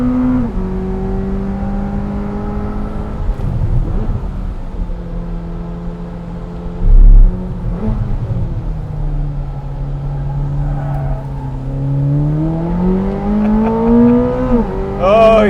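A 1,064 hp Corvette ZR1 sports car at full throttle on the Circuit of the Americas race track, its engine note rising and falling through shifts, with a brief louder burst midway. It sounds close and continuous, as if heard from inside the car.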